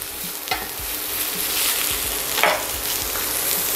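Burger patties sizzling in a hot pan just after flipping, a loud continuous frying hiss with a few scraping and stirring bumps, close by and with no voices.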